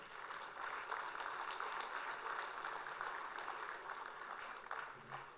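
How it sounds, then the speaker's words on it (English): Audience at a Founder's event applauding the founders, a dense, even wash of many hands clapping that holds steady for several seconds at a moderate, somewhat distant level. "A round of applause to the co-founders and the founder."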